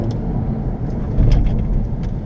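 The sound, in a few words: 2017 Honda Civic Hatch wheels spinning on winter snow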